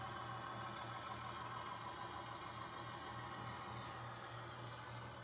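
A 2000 Blue Bird All American 78-passenger school bus with a Cummins ISC 8.3-liter turbo diesel idles in a constant low, even hum, heard alone at moderate distance without voices.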